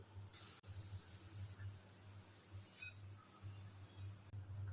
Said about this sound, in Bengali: রসুনটাকেও লাল লাল করে ভেজে নিতে হবে